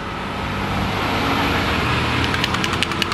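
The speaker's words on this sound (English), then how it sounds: "That loud sound you hear is our garbage service." A garbage truck's engine runs outside, a steady loud rumble with broadband roar that holds throughout, joined near the end by faint clattering taps.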